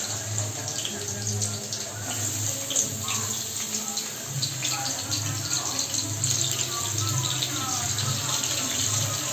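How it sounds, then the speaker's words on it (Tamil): Onions frying in a generous amount of oil, a steady close sizzle and hiss running continuously for about nine seconds, with a low hum underneath. "எண்ணெய் கொஞ்சம் தாராளமாக யூஸ் பண்ணுவேன். வெங்காயம் போட்டுக்கிறேன்."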